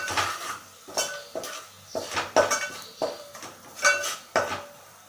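A metal spoon repeatedly clanks and scrapes against a pot while chicken coated in Malvani masala and garam masala is stirred and sautéed, about a dozen rhythmic close strikes with a faint sizzle beneath.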